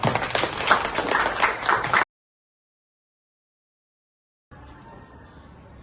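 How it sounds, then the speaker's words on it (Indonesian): Classroom applause for a student named Adel, a brief burst of clapping from a group of students for about two seconds, then a sudden cut to silence and faint room noise. "kita kasih aplaus dulu buat Adel"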